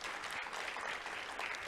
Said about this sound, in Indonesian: Tepuk tangan Yesus Kristus.